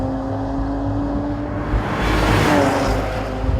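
A 2014 Porsche Panamera 4S with a twin-turbo V6 and PDK transmission launches from a standstill in Sport Plus, its engine note rising and swelling in a continuous rush, with no talking.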